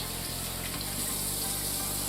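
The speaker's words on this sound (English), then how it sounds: "Let's wash our fingers off of the egg." Kitchen tap running steadily as egg is rinsed off fingers, a dense continuous hiss of water splashing into a sink with a faint low rhythmic pulse underneath, close and uninterrupted.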